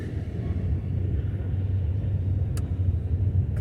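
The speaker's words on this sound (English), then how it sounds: "So this train just keeps coming and coming." A long freight train rolls past near the Gorge Trail at Buttermilk Falls in the Finger Lakes, producing a continuous low rumble and faint rhythmic wheel thumps that hold steady throughout, with a brief high squeal midway.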